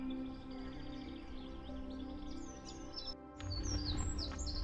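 Gull calls ring out repeatedly from birds circling near a bridge where they nest, a string of high, fairly distant cries over steady wind and engine-like rumble.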